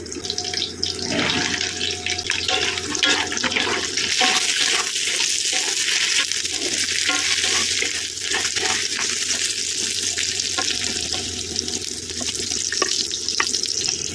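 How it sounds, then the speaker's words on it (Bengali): Green beans and flat beans fry in mustard oil in a kadai, making a loud, continuous close-up hiss and sizzle with occasional stirring scrapes and no talking. "এরপর বিনস আর শিমটাও খুব ভালো করে ভেজে নিচ্ছি"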